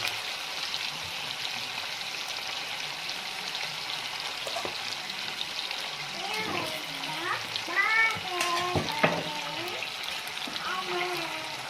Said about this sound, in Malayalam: കുറച്ച് ഇട്ടിട്ടാണ് ഫ്രൈ ചെയ്തെടുക്കേണ്ടത്.